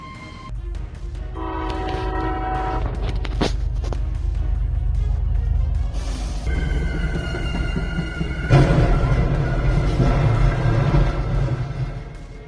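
A train blasts its horn in long, repeated tones over a heavy rolling rumble as it bears down on a truck stopped on the tracks, with a rougher, louder surge of noise late on.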